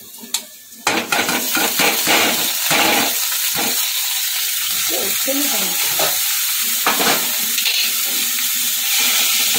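Grated bottle gourd goes into a hot pan with a little turmeric and is stirred, giving a steady close sizzle broken by repeated scraping and clinking of a utensil against the pan, with no talking.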